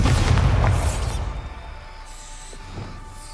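Bombarda explosion spell in Hogwarts Legacy: one loud, close boom with a crackling burst that decays over about a second into a fainter rumble, followed by a few small pops.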